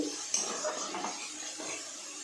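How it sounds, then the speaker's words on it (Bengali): Chopped onion stirred and frying in hot oil in a pan for a Bengali dhaba-style masala chicken, with soft sizzling under repeated scraping and clinks of a utensil against the pot, moderately quiet and close. "পেঁয়াজটা তেলের মধ্যে নাড়াচাড়া করে"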